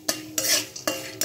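Popcorn kernels stirred in a pan at home, a few quick close scraping strokes of a spoon against the metal with a light sizzle beneath, in short bursts.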